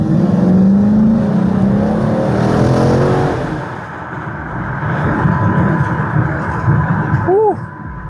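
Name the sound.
car engine accelerating up to speed on road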